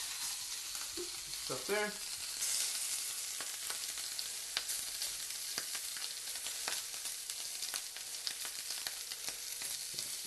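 Shrimp sizzle in a hot pan, a steady crackling hiss dotted with sharp pops and the clatter of stirring, while a voice speaks briefly near the start.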